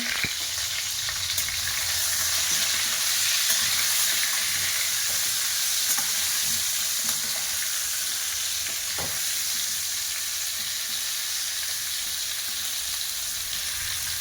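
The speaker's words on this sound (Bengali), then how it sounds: "এবার ভালোভাবে নেড়ে লাল লাল করে ভেজে নেব" Potatoes seasoned with salt and turmeric fry in hot oil for a village-style mutton curry, a steady close sizzle with occasional scraping stir strokes throughout, no voices.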